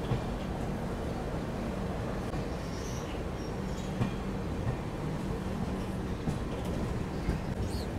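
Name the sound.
Amritsar–Howrah Express train arriving at platform 3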